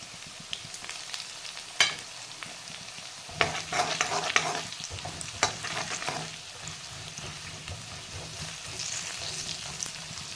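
Potatoes fry with turmeric, cumin and chili powder while being stirred, giving a soft, crackling sizzle with irregular scraping clatters from the utensil, fairly quiet and without talk.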